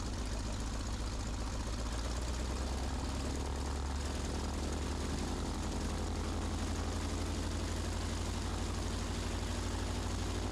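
A Waco UPF-7 biplane, a WWII-era training aircraft, runs its radial engine up to 1500 RPM for a magneto check, giving a steady, loud, continuous drone with throbbing propeller beats and no talk.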